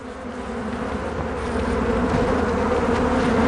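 Honey bees swarm around an opened hive during a springtime check, a dense, close buzzing drone that swells slightly louder and stays continuous, with no voices.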